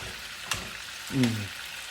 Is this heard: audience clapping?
no